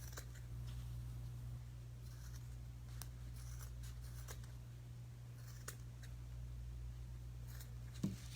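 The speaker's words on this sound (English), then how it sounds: "if you want to cut some of this off, you can with your scissors" Scissors snip yarn while trimming a knitted sweater pumpkin craft. A few faint, sparse clicks of the blades sit over a steady low hum, with no talking.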